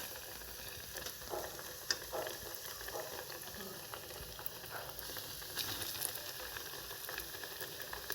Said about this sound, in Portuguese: E a gordura já está aqui, ó, aquecendo.